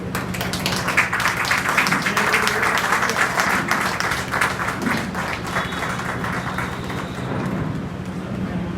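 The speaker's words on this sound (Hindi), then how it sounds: "जोरदार तालियों से" An audience at a seminar claps with enthusiasm in a dense, sustained round of applause, loud at first and easing slightly toward the end, with no speech over it.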